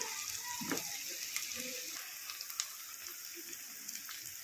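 Coconut gongura prawn curry with added paste simmers in a pan, giving a quiet, steady sizzle with faint scattered pops and light stirring scrapes throughout.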